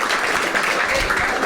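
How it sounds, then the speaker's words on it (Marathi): An audience at a comedy show claps together, making a loud, dense wash of hand claps that holds steady and close for about a second and a half. "एकदा टाळ्या वाजवायच्यासाठी."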